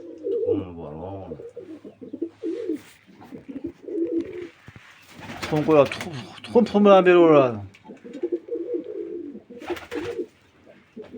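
Pigeons coo among other birds at the Niyoz Botir bird market in Asaka, a low repeated cooing heard under and between close, steady talk by men.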